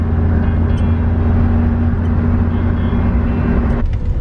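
Cabin noise from Anna's tiny car packed with luggage on an early-morning road trip in Costa Rica: a steady, loud engine and road drone with a constant low hum that drops away just before the end, no talking.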